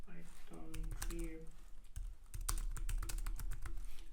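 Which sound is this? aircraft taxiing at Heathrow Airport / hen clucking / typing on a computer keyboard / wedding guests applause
typing on a computer keyboard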